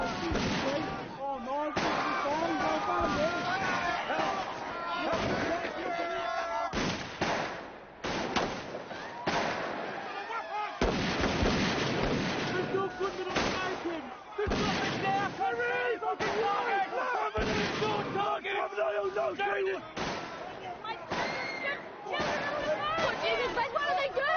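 Repeated gunfire at barricades, with sharp shots and bursts scattered across a noisy battle scene, heard under constant shouting voices.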